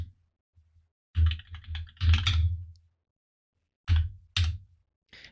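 A computer keyboard clatters in short bursts as a command is typed on the command line: a run of quick keystrokes, then a pause, then a few separate sharp taps, close and clear with no talking.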